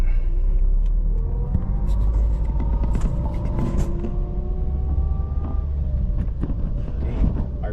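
A manual 2009 Toyota Vios rolls over road humps, its engine a steady low rumble with soft bumps and rattles from the cabin, continuous throughout.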